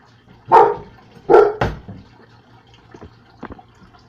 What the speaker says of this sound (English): Sorry, the dog started barking.